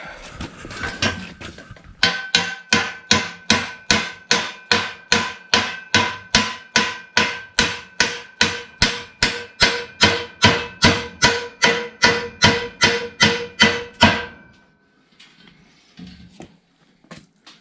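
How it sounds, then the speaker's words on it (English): Rapid, evenly spaced metallic hammer blows on the exhaust pipe of a 1952 Ford F1 truck ring out, around thirty strikes in a steady rhythm, loud and close, then stop into near silence. "Hammer and just hit it."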